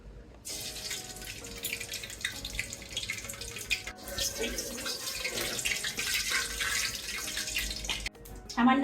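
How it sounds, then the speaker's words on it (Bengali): Water pours into a cooking pot while tilapia pulao is prepared, a continuous splashing hiss that holds steady for several seconds before a short break and a louder final gush. "প্রথমে জল দিয়ে দিচ্ছি সাদা করে"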